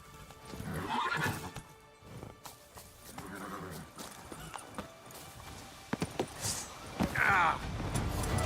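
A horse in the Witcher 3 Blood and Wine video game clip-clops at a run with rhythmic hoofbeats and several whinnies and neighs, overlaid by scattered in-game effects and a short vocal exclamation.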